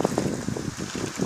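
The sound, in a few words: strong south-east wind during a thunderstorm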